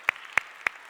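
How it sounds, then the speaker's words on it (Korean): Three sharp, evenly spaced claps sound in under a second, loud and close, from an audience clapping to welcome latecomers at a Korean church evening service. "환영한다고 박수"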